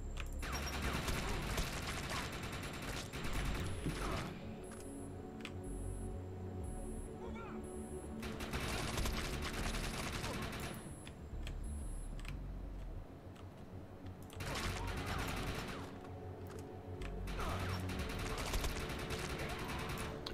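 Gunfire from the online shooter Defiance 2050 during a beta session, dense bursts of rapid shots running almost continuously under game music and effects, loud and close throughout.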